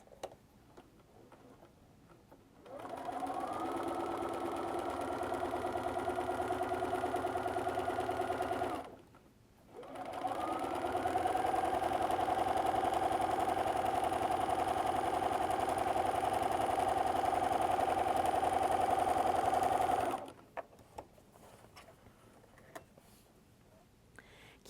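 A sewing machine quilts with a walking foot, its steady rapid stitching running in two long bursts separated by a short pause, close and loud with no talking.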